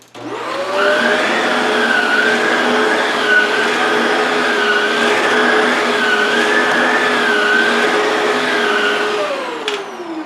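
Shark Rotator Powered Lift-Away vacuum running steadily on carpet, a loud continuous motor whine with a whirring brushroll that wavers slightly as it passes over spots, starting and cutting off at the ends.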